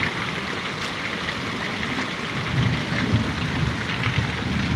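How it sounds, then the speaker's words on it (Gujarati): Heavy rain pours down in a steady roar while a low rumble of thunder swells partway through, close and fairly loud, with no one speaking. "વીજળી ને કડાકા ભડાકા થાય"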